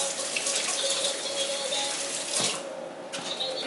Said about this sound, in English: Go ahead and wash your hands.